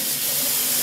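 A steady, close hiss of sanitizer solution spraying from a nozzle into a bucket, continuous and fairly loud.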